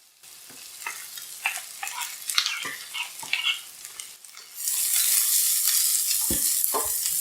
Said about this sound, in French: On va commencer par faire revenir des oignons.